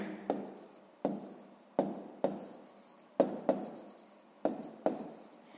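Pen writing on paper during a sixth-grade math exercise, a series of about nine short scratchy strokes in an uneven rhythm, close and alone.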